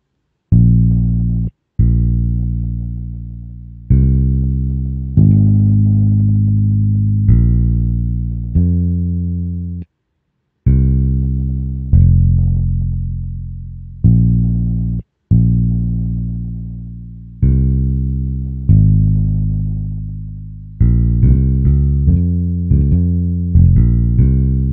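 A deep synthesized bass plays a slow line of sustained notes, each decaying before the next, with brief gaps between phrases.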